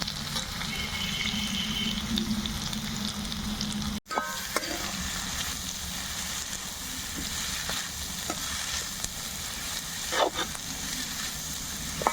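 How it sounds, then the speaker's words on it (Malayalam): Chopped onions fry in a pan until brown for Kerala-style chicken perattu, a steady close sizzle with occasional stirring scrapes and a brief break partway through. "നാല് മീഡിയം സൈസ് സവാള നീളത്തിൽ ചോപ്പ് ചെയ്തിട്ടുണ്ട് എല്ലാം കൂടെ നന്നായിട്ട് ബ്രൗൺ കളറാവുന്നത് വരെ വരട്ടിയെടുക്കും"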